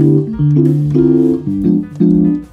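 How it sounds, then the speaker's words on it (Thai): Mellow electric piano voice chords from a NUX NPK-10 digital piano play in a short sequence, each struck, held briefly and changed, close and clear with no voices. "นี่เป็นเสียงอิเล็กทริกเปียโนนะครับ"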